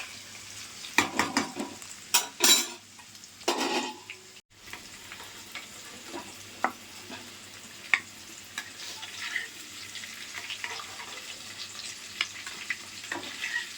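Oil sizzles as potatoes fry, with a few loud clattering stirs early on, then a quieter steady crackle broken by occasional pops.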